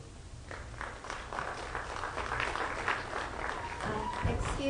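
Audience members clap at a school board of education meeting, a moderate, steady patter of applause with a roomy, somewhat distant quality.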